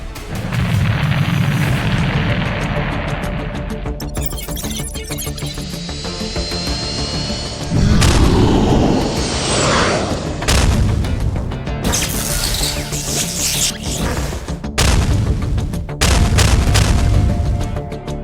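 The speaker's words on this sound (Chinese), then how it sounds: "用火箭弹先把海峡两岸的山头洗一遍" A rocket barrage pounds hillsides on both shores of a strait during an anime naval battle, giving a long stretch of loud, dense explosions and rumbling bursts that come in several surges with short breaks between them.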